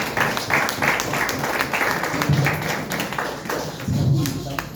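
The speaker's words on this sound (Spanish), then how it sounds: "Demos un aplauso al Señor Jesús y bienvenido a nuestro pastor Juan Carlos." Rhythmic congregational clapping at a church service welcoming a pastor, steady beats close by with voices mixed in.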